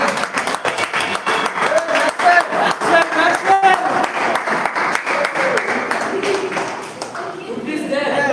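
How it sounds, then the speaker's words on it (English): Crowd applause at a club's annual general meeting and awards ceremony, loud sustained clapping mixed with voices, cheers and some music, tapering off near the end. "Guys, let the applause keep going"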